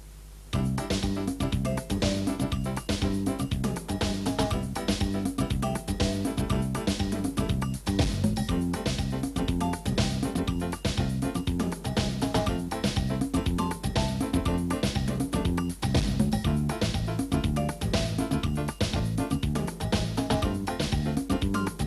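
A 1992 Yamaha QY10 music sequencer plays a chord progression on preset pattern 58, a steady full-band groove with drums, bass and chords running continuously at even loudness for about twenty seconds.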